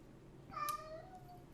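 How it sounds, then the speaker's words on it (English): Sherlock, a pet cat, gives a single short, faint meow that rises then fades, heard alone against a quiet room background. "That's our cat Sherlock."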